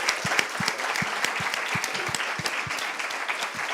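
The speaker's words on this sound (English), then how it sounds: "I'd like to make another big round of applause for our 4 great speakers." An audience at a business-in-fashion talk event applauds the speakers, a steady patter of many clapping hands sustained throughout, fairly close.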